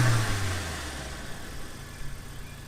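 A cheap GTI-badged car engine, low on coolant with its cooling fans running, gives a strong rev at the start that falls back to a rough idle, with small throttle blips near the end.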